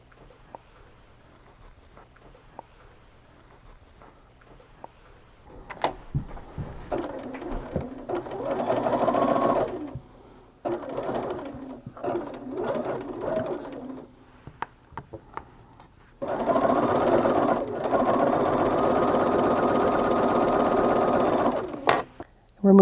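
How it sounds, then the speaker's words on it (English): A sewing machine stitches two quilt block rows together, running in several bursts of fast, steady whirring with short pauses between them. "sew these 2 rows together exactly as you did those."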